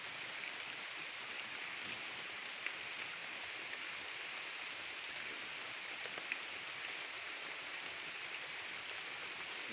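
Rain falling steadily outdoors on a windy day during a fishing outing, a dense, even hiss of drops on surfaces that stays constant and fairly faint throughout, with no talking.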